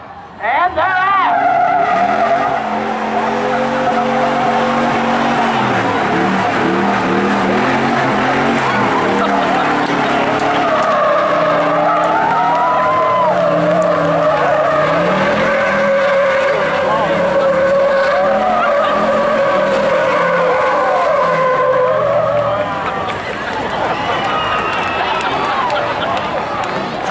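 A Ford dually and a Chevy truck launch in a truck pull, engines roaring loud and tires squealing and skidding in long wavering whines that rise and fall for over twenty seconds, with a crowd and an announcer's voice faintly underneath.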